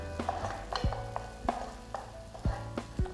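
A spoon scrapes and stirs ground peanut-sesame paste into onions frying in a pan for a tamarind-leaf brinjal fry, with repeated knocks against the pan over a steady sizzle.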